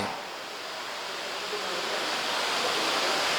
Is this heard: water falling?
yes